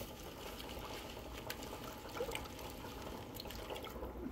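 Water in a bucket being swirled by hand as salt is mixed in, a quiet, steady liquid sloshing and dribbling with faint drips, close and low in level, with no talking.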